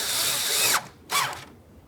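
A power drill tightens 8mm bolts on a 2006-2012 Ford Fusion front door, whirring loudly and close in two bursts, the first longer with a pitch drop as it bottoms out, then a short second run.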